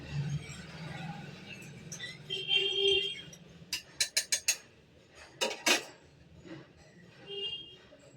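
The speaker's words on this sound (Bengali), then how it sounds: "এবার এটাকে বেশ ভালো করে নাড়াচাড়াটা করে নিয়ে আমি ভাতের উপর দিয়ে দেব" A metal spoon clinks and scrapes against a cooking pot while biryani masala is stirred, a cluster of sharp ringing knocks in quick succession over a soft background, fairly faint.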